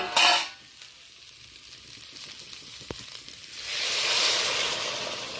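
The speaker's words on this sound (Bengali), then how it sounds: "এবার জলটা অ্যাড করব" Water is poured into a pan of pointed gourd and potato curry; after a brief clatter and a quiet stretch, a loud, broad hiss swells up and holds steady, close and without speech.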